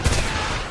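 Gunfire in the video game Homefront, a brief loud burst of shots with a rumbling low-end thump, lasting under a second.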